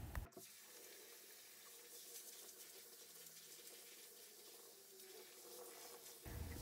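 Red lentils being rinsed under a running kitchen tap, a steady close rush of water splashing into a sink for several seconds with no talk.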